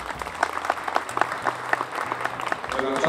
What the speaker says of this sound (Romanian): vă rog să-l aplaudați pentru investiția făcută